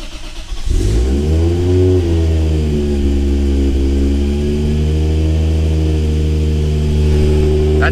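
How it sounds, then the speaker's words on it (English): A Toyota Supra engine cranks and catches after a brief starter whir, then settles into a loud, rumbling idle close by, with a few blips of revving that rise and fall in pitch. "I'm gonna try turning the car on now"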